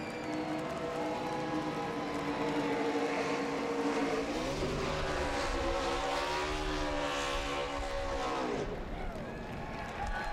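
A NASCAR Xfinity race car does a burnout at Kansas Speedway, its engine roaring and revving with shifting pitch over several seconds, fairly distant beneath a commentator's voice.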